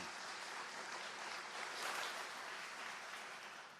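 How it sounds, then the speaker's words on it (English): A crowd applauds at a ribbon-cutting ceremony for the Ashland Public Safety Building. The clapping blends into a steady, hiss-like wash that swells slightly midway and then tapers off. "she deserves a round of applause, too"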